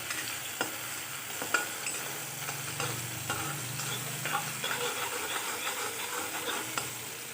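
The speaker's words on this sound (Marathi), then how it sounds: "यामध्ये मी ही मिरची जी ठेसून घेतली आहे ती टाकते तिला थोडंसं परतून घेऊया दोन मिनिट" Crushed green chilies sautéing in a pan for a fasting-day dish give a steady close sizzle, broken by scraping stir strokes and a few sharp spoon knocks throughout.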